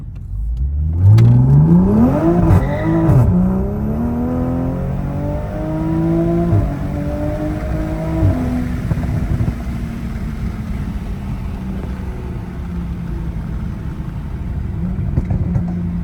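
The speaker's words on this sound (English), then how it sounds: "when you step on it, it shifts pretty quick now" Toyota Supra with a tuned XHP transmission accelerating hard, its engine note climbing and dropping sharply through several rapid gear shifts before settling into a steady, loud drone, close up with no talking.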